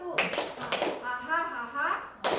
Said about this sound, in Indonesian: Nah, tepuknya 2 kali.